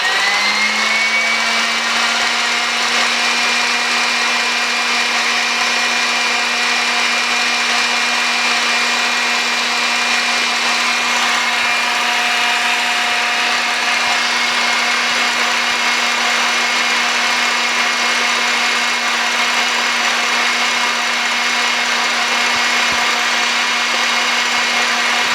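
An electric mixer whirs steadily through macaron batter, a constant motor hum with a high whine that holds unchanged for the whole stretch, fairly loud and with no talk over it.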